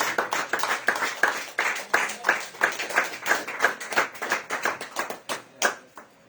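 Congregation in a church clapping in a steady rhythmic beat, loud and close, continuing for several seconds with voices faintly mixed in.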